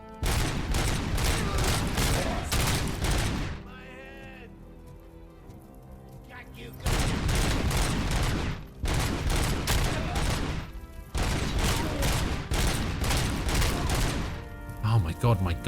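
Gunfire from RoboCop: Rogue City comes in long rapid sustained bursts, loud and close, broken by short quieter pauses where a voice talks.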